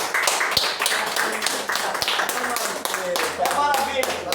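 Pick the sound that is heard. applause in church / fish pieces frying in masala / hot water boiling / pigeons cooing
applause in church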